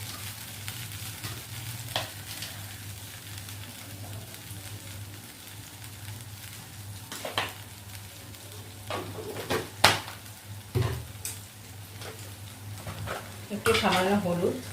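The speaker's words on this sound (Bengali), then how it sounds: "এটাকে ক্রমাগত নাড়িয়ে দেবো" Sliced pointed gourd frying in oil in a pan gives a low, continuous sizzle, with occasional sharp clinks and scrapes of a spatula as it is stirred, close and fairly quiet with no talking.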